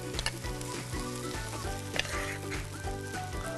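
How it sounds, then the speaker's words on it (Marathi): Spinach puree sizzling in a pan over sautéed onions, a loud continuous frying hiss with faint stirring scrapes and a couple of sharper crackles, no talking. "आता मी हा कांदा परतून झाल्यानंतर याच्यात ही प्युरे जी आहे पालकाची ती मी ॲड"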